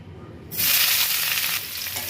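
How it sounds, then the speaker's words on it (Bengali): Chopped onion tipped into hot oil in a wok bursts into a loud, hissing sizzle after a brief quieter moment, then keeps crackling steadily close by, easing slightly toward the end. "কড়াইতে তেল দিয়ে দিয়েছি, তার মধ্যে এবার দেবো পেঁয়াজ কুচি।"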